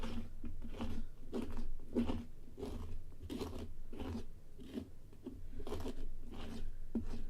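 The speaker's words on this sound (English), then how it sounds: "All I can hear is the scraping sounds" A pumpkin being carved is scraped out in a steady run of rough, crunchy strokes, repeating roughly every half second, close and moderately quiet, with no talking.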